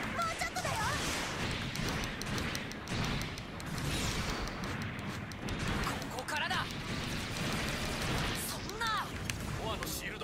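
Continuous bursts of sci-fi beam weapon fire and blasts from the Gundam Breaker 3 video game on PS4, dense and loud throughout, with overlapping explosive crackles and a voice talking over the action.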